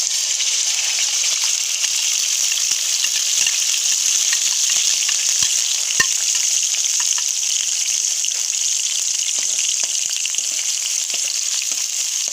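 A paste of ginger, onion and green chilli fries in a cup of hot oil in a kadai, giving a loud, even crackling sizzle that runs without a break, with a few faint clinks.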